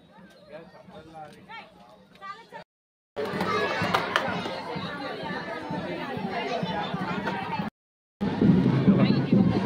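A busy crowd of visitors chatters and murmurs at the Karla caves, a dense hubbub of many voices close by with brief gaps, and a louder burst of babble near the end.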